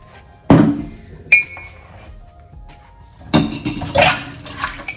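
Dishes, pots and utensils clatter in a kitchen sink during washing: a few sharp clanks and clinks in separate bursts, with quieter gaps of running handling between them.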